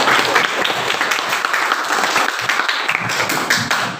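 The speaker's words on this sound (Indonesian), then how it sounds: "berikan aplaus dulu kepada teman-teman" Students applaud their classmates in a classroom, a steady dense clapping from many hands that carries without a break for about four seconds and fades slightly at the end.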